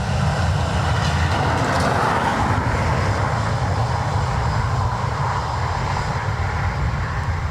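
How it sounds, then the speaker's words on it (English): Ryanair airliner landing at Dublin Airport on a wet, crosswind Sunday, heard as a steady, loud broadband engine roar with low rumble that holds throughout, without speech. "Nice calm landing for Ryanair."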